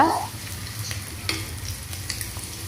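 Mustard seeds, fenugreek, garlic and onion frying and being stirred in hot oil, giving a steady close sizzle with soft scraping stirs.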